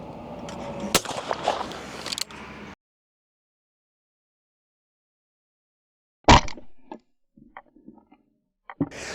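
Shotgun fire at a rising teal clay target: a sharp, loud blast near the start and another sharp crack after a gap of silence, with fainter clicks trailing.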